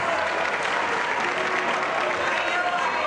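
A studio audience breaks into loud, sustained applause mixed with cheering, a dense and steady wash of clapping that carries through the whole stretch.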